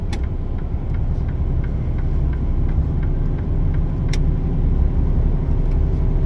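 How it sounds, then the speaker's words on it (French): Steady low engine rumble and road noise from inside a moving car, continuous and close with small clicks, no talk. "Je suis en train de conduire ici au volant"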